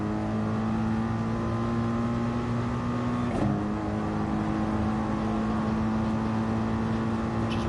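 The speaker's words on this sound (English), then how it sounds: "Such a lovely sounding car is the Mercedes." A Mercedes race car in a racing video game drones steadily and loudly, its engine note holding an even pitch with a brief shift midway, no talk over it.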